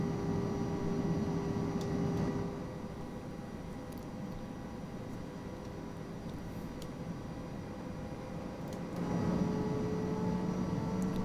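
An Airbus A320 with IAE engines taxis in X-Plane 11, giving a steady jet engine whine and hum that holds throughout and swells slightly near the start and end.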